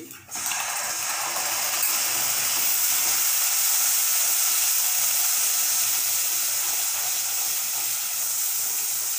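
Yogurt poured into hot, sizzling masala for chole: a sudden loud hiss bursts up and settles into a steady, dense sizzle that continues unbroken, close and without talk.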